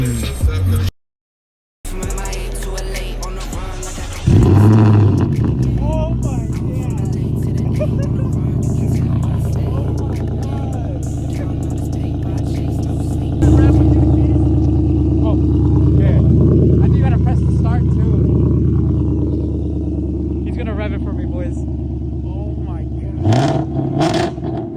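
Catless Ford Mustang with new mufflers revs hard nearby, its deep exhaust rising and falling through several blips, with people talking over and between the revs.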